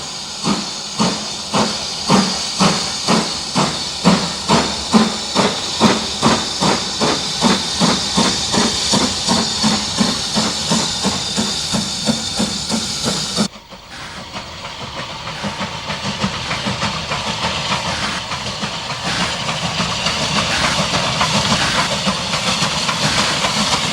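Engerth No. 12 of 1920, a Spanish narrow gauge steam locomotive, climbs a valley with a train. Loud rhythmic chuffs sound close for about thirteen seconds before giving way to a steady hiss and rumble.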